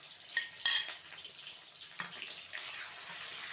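Cabbage is stirred with tomato, ginger and cumin paste in a pan, giving a close, moist scraping and a soft sizzle with a couple of sharper knocks of the spoon on the pan, and nobody speaking.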